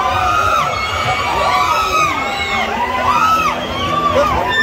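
At a bachata concert, a crowd of women screams and cheers in high, overlapping shrieks, loud and sustained throughout.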